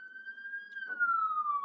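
An ambulance siren passes by as one sustained wailing tone that slowly drops in pitch, moderately loud, with faint traffic rumble beneath.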